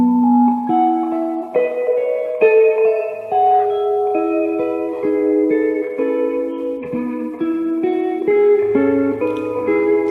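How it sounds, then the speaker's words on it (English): A guitar plays a slow series of sustained chords, each chord ringing clearly with some reverb, in a close, steady sequence with no talking over it. "those are all chords"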